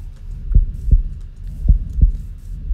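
A video game heartbeat effect thumps steadily in close, heavy low pulses, roughly two beats per second, with no talk over it.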